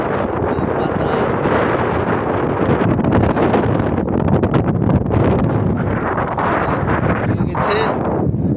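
Strong wind on a riverbank at Frazerganj, buffeting the microphone loudly with a rough, gusting roar that swells and eases across the whole stretch.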